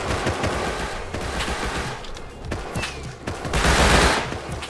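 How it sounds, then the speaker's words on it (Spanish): Gunfire in the survival video game Rust, a rapid fusillade of sharp shots rattling in quick bursts, loud and close with overlapping reports, the firing swelling toward the end. "Vale, me dispara desde la casa."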